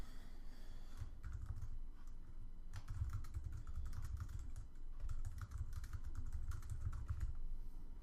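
Fast typing on a computer keyboard while a message is entered in an iPhone app project, with steady bursts of key clicks and short pauses, close and moderately loud over a low background hum.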